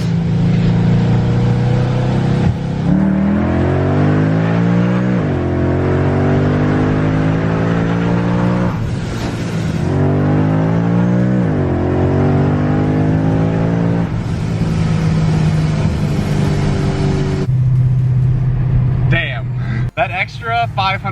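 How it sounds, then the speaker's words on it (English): Supercharged 650 WHP ProCharger Mustang on Mickey Thompson tires accelerating hard from second gear, engine note climbing steadily and loudly through long sustained pulls with brief breaks between gears, continuous and close throughout. "I was waiting for the car to shift and it just keeps on pulling"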